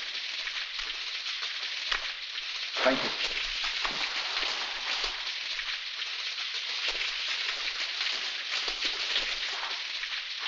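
Steady rain falls continuously as a dense, even hiss, with a short spoken word partway through.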